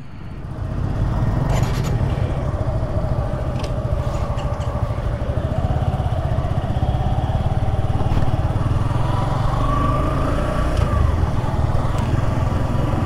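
A Suzuki Gixxer 155SF motorcycle engine starts and settles into a steady, loud, close idle. The even, throbbing drone holds with a faint rising whine near the end, and no one talks over it.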